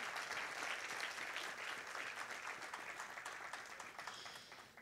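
Sustained audience applause at a Carnatic music and dance event honouring artists, a dense wash of clapping hands that holds steady and then tapers off slightly toward the end.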